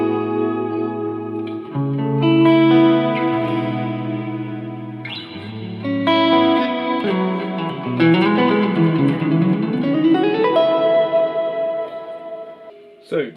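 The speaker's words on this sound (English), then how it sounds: "So that's my quick little demo of the Reverb, the RV6" Electric guitar runs through a Boss RV6 reverb pedal on its modulate setting, with sustained chords and single notes blooming into a shimmering, wavering wash of reverb that lingers between phrases.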